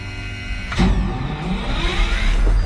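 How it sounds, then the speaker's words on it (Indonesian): A coal mining haul truck's starter motor whirs and whines, rising in pitch as the engine turns over, with a deep rumble underneath. "Motor starternya kedengeran."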